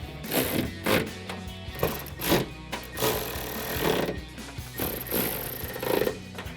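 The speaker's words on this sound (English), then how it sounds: "I'm going to throw my ratchet on the other side of a 10 mil socket and extension and tighten all those down." A hand ratchet with a 10 mm socket and extension tightens the bolts of a rear spoiler on a 2024 Mustang Fastback, giving repeated rasping clicks in close, steady strokes with no talking.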